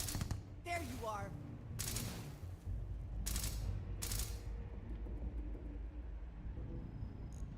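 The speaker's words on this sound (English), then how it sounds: "our estranged friend, who has decided he wants to shoot at us" Enemy gunfire in the Starfield video game, several loud bursts of shots spaced out over a few seconds amid low rumbling background, with someone talking over it.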